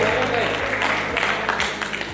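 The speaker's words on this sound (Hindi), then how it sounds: "एक बार तालियां बजा के बताइए" Applause from an audience at a Hindi poetry recital, following a poet's reading; steady dense clapping filling the space, with a voice speaking over it.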